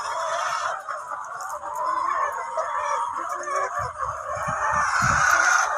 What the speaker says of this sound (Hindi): मुर्गियां